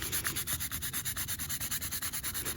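Metal jewelry is hand sanded with folded 2000 grit sandpaper in quick, even back-and-forth strokes, a soft rhythmic rasp repeating about six times per second, close and quiet with no voices.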